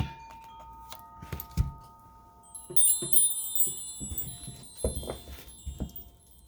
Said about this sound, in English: Let's invite in some fun energy with the smaller chimes.